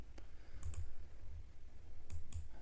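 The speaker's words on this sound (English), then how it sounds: "as we type any key in our keyboard" Keys tapped on a computer keyboard while coding, a few sharp clicks in two quick pairs over a low steady room hum.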